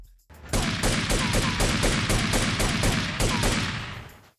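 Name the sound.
gunshots from video game Grand Theft Auto 3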